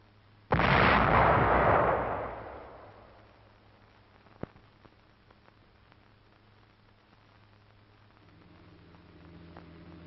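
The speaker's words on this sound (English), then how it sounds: "Mr. Churchill fires a 240mm howitzer" A 240mm howitzer fires once at a field artillery position in wartime Italy, a single loud boom that rolls away over several seconds, followed by faint background noise and a small sharp tick.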